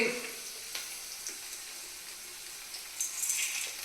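Onion frying in a pan, a steady close sizzle with faint crackles and a few soft stirring scrapes, brief murmured voice in the background.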